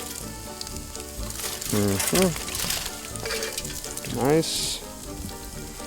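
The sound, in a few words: thick cut bacon sizzling on a kettle grill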